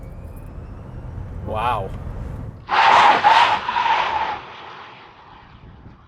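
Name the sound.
Rivian R1S Gen 2 tri-motor electric SUV launch control acceleration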